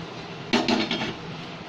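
A metal lid clanks down onto a cooking pot of kadhi pulao, giving a couple of close clinking knocks and a brief rattle as it settles, then a faint tap over quiet kitchen background.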